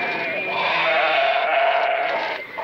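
A cartoon goat bleats in a stable, one long, loud, wavering cry that lasts a few seconds, close and alone.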